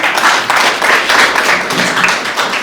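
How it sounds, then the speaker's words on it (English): An audience at a dementia and Alzheimer's event claps in a loud, dense burst of applause that holds steady from start to finish. "A round of applause again."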